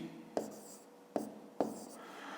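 A pen scratches across paper while a math division problem is worked out, giving three short, distinct strokes close by against a quiet room.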